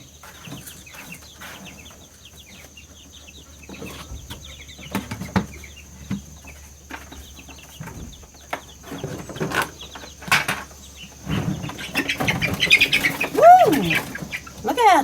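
Chickens cluck and chirp around a farm, with occasional wing flaps and rustling. The calls grow busier and louder toward the end, heard nearby with no talking.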